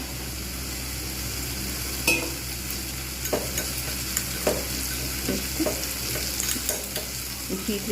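Spice masala for a Bengali kabuli chana curry fries in a pan with a constant close sizzle, while a spoon stirs it with soft scrapes and occasional clinks against the pan.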